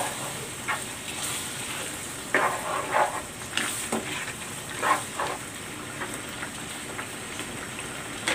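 First-pressed coconut milk sizzling and bubbling in a pan for ginataang puso ng saging, a steady frying hiss with scattered crackles and stirring scrapes, close and fairly quiet, with no talking.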